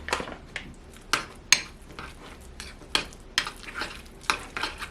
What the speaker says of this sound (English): now I'm gonna mix in some powdered sugar